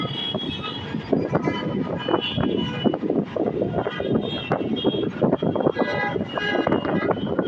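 A metro rail train passes on a foggy morning in Dhaka, a steady, loud broadband rumble and rush that blends with strong gusting wind across the whole stretch.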